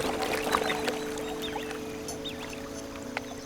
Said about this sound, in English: Bubble blowing and water shaking flirtatiously.